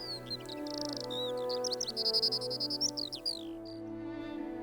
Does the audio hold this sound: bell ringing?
no